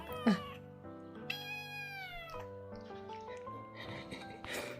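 Several stray kittens, one blind, meow loudly in overlapping, high-pitched cries, one after another at close range, with a soft voice murmuring underneath.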